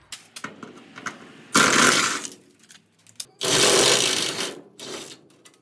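An abrasive wheel grinds the underside of a 1973–79 Ford F-100 truck to expose spot welds, in two loud sustained bursts of roughly two seconds each, separated by quieter clanks and handling noise.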